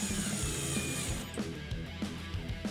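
A power drill drives 1.25-inch screws into pre-drilled wooden drawer handles on a workbench, giving short repeated whirring bursts with clicks in between, fairly quiet and close.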